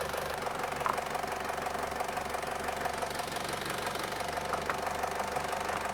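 Vauxhall Corsa D 1.2 engine running steadily under the bonnet after water pump work, a close, even idle with a fine ticking knock and faint rises in revs.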